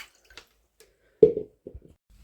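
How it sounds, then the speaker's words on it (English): Water drips and splashes into a baking tray as a Candy washer dryer is drained. A few separate drips fall close by, with one fuller splash and then a couple of smaller ones in near silence. "I have just been scooping some of the water out as well, putting it in there."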